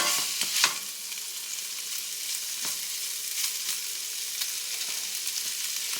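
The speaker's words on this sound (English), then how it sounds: "I'm going to stir these around, just checking on them" Peppers and other vegetables frying in a pan for a ramen dish, with a continuous close sizzle and scraping stirs and clinks from a utensil scattered through it.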